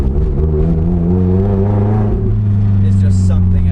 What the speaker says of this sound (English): The noise from this Larini exhaust, naturally aspirated engine,